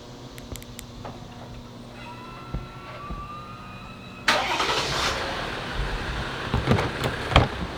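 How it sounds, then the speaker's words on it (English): A diesel Jeep Rubicon cranks and fires up outdoors on a hot, humid day in Florida, with a faint whine and a few clicks first, then a sudden loud start settling into a steady, rough idle with some clunks. "So of course the diesel Rubicon starts"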